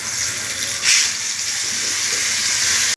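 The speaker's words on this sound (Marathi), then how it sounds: "गॅसवर मी पॅन ठेवला आहे, त्यात तेल घातले आणि ही मच्छी त्यावर टाकते" Surmai fish frying in oil in a pan over a medium gas flame, giving a steady close sizzle with a brief louder hiss near the start.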